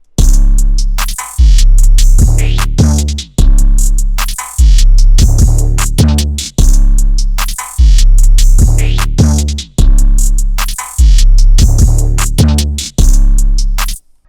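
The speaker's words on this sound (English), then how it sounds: "Altogether, the drums sound like this." A loud, continuous drum beat loops steadily, with booming bass kicks, crisp hits and rhythmic pauses repeating throughout, no voices.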